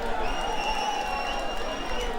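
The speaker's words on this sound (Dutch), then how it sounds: "geef ze een groot applaus" Audience applause and cheering at a song festival, following a mentalist's act, sounding as a steady dense wash of clapping from a crowd throughout the short moment.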